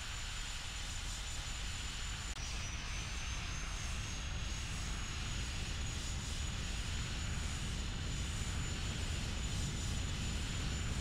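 Dassault/Dornier Alpha Jet engines roaring steadily during takeoff from a runway running onto a lake bed in the X-Plane 11 flight simulator, a constant loud broadband rumble with a faint high whine throughout.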